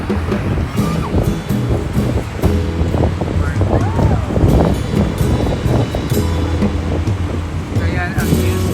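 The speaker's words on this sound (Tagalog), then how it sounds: "Ayan yung dagat." Sea waves near the longest bridge in the Philippines, heard as a steady wash of surf mixed with strong wind buffeting on the microphone and some passing traffic, with a voice speaking over it.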